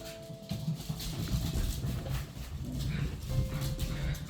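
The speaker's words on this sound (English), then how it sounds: "these dogs are going crazy" Several dogs bark and yelp in the background of an indoor room, a busy, uneven chorus of mid-distance barks, moderately loud, with faint noises.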